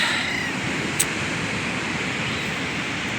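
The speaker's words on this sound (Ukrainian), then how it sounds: "Море." Sea waves on the Chilean coast roll in as a continuous broad wash of surf, loud and steady, with one brief sharp click partway through and no voices.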